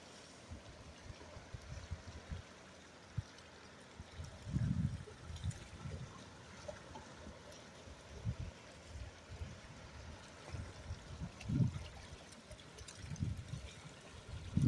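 Low, quiet surf on a Jeju Island shore, small waves washing in and rising in soft swells every few seconds, faint and close with no talk.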